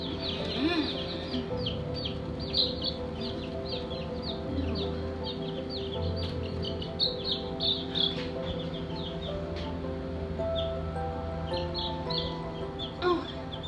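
Backyard farm chickens cluck and chirp steadily, scattered soft calls near and far over a low background hum, with no one talking.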